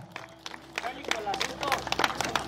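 Crowd clapping and cheering for the ranch owners of Rancho El Misterio at a rodeo bull-riding event, a steady mass of scattered claps at moderate distance with crowd noise and voices underneath.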